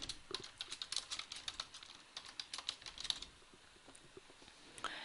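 A computer keyboard being typed on in quick, irregular bursts of light clicks, close and fairly quiet, with brief pauses between runs of keystrokes.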